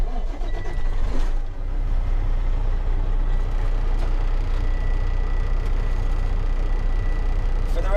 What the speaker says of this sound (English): And we'll go ahead and turn the key.